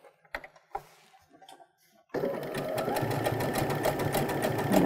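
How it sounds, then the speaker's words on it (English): A Baby Lock Brilliant sewing machine runs a dense satin stitch, a steady fast mechanical whir and needle rattle starting abruptly after a few quiet taps and continuing loud and close to the end. "let's stitch another one of our satin stitches just so that we can kind of compare what they look like"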